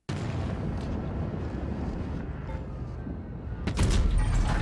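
Heavy rumbling game noise from World of Tanks Blitz gives way to a loud, sharp tank cannon blast near the end, booming and close.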